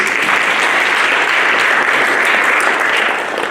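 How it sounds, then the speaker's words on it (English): A crowd at a community event claps steadily for a few seconds, a dense, loud, even wash of applause that tapers slightly at the end with no voices over it. "I'd like to give him a round of applause, please."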